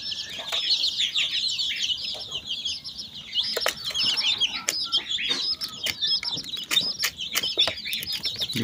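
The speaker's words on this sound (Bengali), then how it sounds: "ব্রয়লার মুরগির বাচ্চাগুলো" Young broiler chicks chirp and cluck steadily in a grassy pen, a near, continuous chorus of high peeping calls with occasional wing flaps and scuffling throughout.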